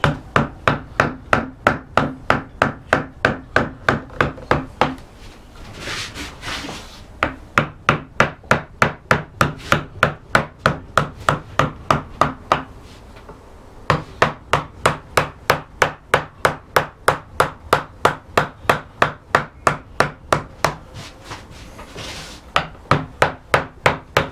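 Repeated sharp taps of a mallet driving a V-tool and gouges into wood while carving a lozenge panel, struck in a fast, even rhythm, close and loud, with two brief pauses between runs of blows.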